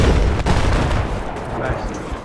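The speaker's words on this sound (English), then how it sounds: "they're firing laws at me though" Weapons fire in the video game Battlefield 4: a dense, loud rumble of gunfire and blasts, heaviest at the start, then easing slightly into a sustained roar.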